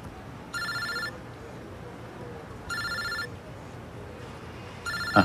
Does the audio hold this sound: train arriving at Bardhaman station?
no